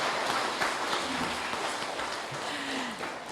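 Audience applause for three mayoral candidates at a Banjarmasin debate, a continuous, even roar of clapping from a large crowd, moderately loud and sustained throughout.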